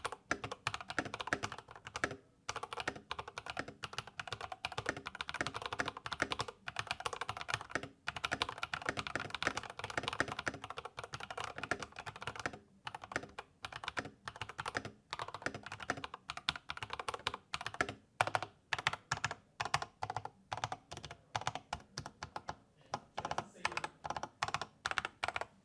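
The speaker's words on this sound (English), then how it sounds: "we're gonna go ahead and do a typing test with these TTC Speed Silvers on the OG80" Continuous typing on an Iqunix OG80 mechanical keyboard fitted with TTC Speed Silver switches, a steady close-up flurry of keystrokes with brief pauses, fairly quiet and with no one talking.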